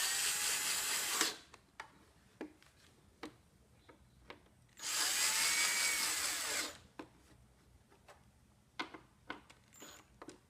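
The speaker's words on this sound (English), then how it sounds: "Now don't over tighten, especially with the power tool" A power tool drives screws into headlight screens on a 2015 vehicle in two loud whirring bursts, each a second or two long, with quiet clicks and handling noises in between.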